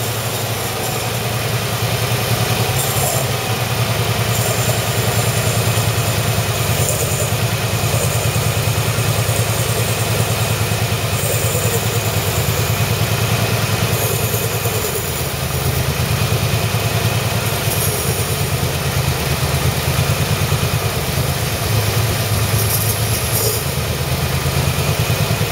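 An engine idles during a SeaFoam fuel-system treatment, a loud, constant rumbling drone that holds steady for over twenty seconds without speech.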